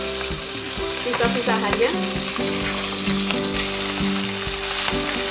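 Fish fries in margarine, its skin crisping as it is turned in the pan, with a loud, continuous sizzle, scraping and clattering utensil knocks, and a brief spoken word.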